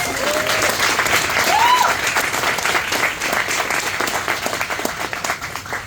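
Sustained applause from a crowd at a Homes for Our Troops house dedication in Howell, New Jersey, loud and continuous, with a few whistles rising above the clapping.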